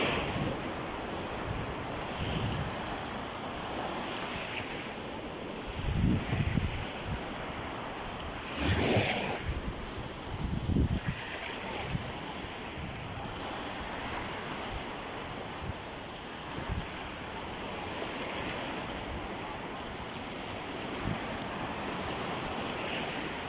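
Sea waves washing in at a deep stretch of open water, a steady surf roar with wind buffeting the microphone and several louder breaking surges swelling up along the way.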